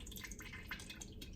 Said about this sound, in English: you can tilt that to get rid of the water